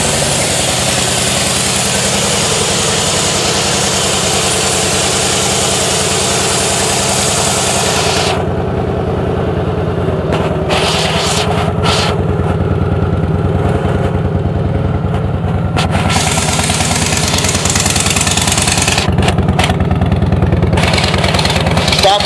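A 2007 Harley-Davidson Fat Boy motorcycle in pearl yellow with low miles idles steadily close by, a continuous deep engine rumble throughout with brief throttle surges toward the end.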